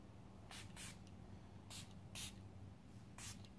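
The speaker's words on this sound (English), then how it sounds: "I'm going to set everything with the Milani Make It Last setting spray." Milani Make It Last setting spray misted from a pump bottle in five short, bright hissing bursts, arriving in pairs and singly over a low steady background hum.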